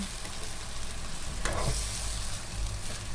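White bee hoon is stir-fried in a rattling wok, giving a loud, steady frying hiss with a brief tossing scrape partway through and a low rumble underneath, all close by and without talking.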